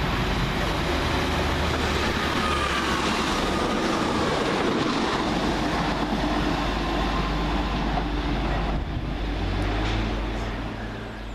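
TransPennine Express unit 185117 on a Cleethorpes to Manchester Airport service via Manchester Piccadilly at Heaton Chapel, a steady loud rumble of a passing train with rail noise sustained throughout.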